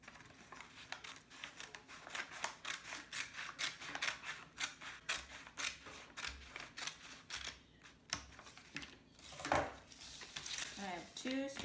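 Scissors snipping through paper while a paper crown is cut out, a quick run of crisp, rhythmic cuts close by, fairly faint, with a voice talking at times.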